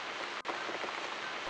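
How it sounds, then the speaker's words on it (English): Steady rain falls in the video game The Cat Lady, a dense, even hiss of downpour that continues without a break and without any talk. "Looks like we've got the rain back."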